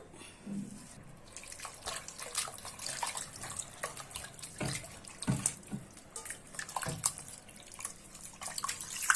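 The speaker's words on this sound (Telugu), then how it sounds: "అండ్ ఇప్పుడు మటన్ వాష్ చేసుకుందాం." Mutton is washed in water, with close splashing, dripping and sloshing coming in irregular bursts and no talking.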